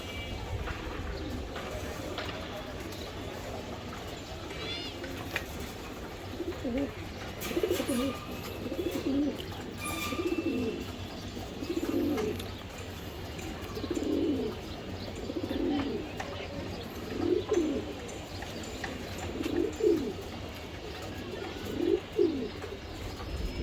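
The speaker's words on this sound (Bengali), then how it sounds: "এই কবুতরটা আপনারা নিতে পারবেন এটা রেস করা একটা নর" Racing pigeons, including a pedigreed racing cock, coo in a steady series of soft, throaty calls repeating every couple of seconds, moderately close against a low background hum.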